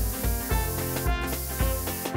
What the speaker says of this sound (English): Stop spraying!